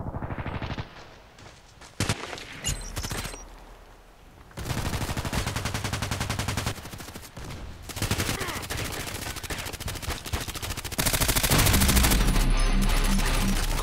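Bursts of automatic gunfire in the Contract Wars shooter, loud and dense, with rapid volleys broken by short pauses and a heavy sustained barrage near the end.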